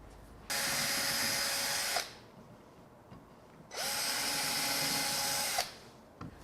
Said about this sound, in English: I'm going to go ahead and pre-drill using a 1/16 inch bit or 3/32